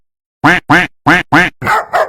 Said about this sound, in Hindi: अरे कौन भौंक रहा है ये बदतमीज?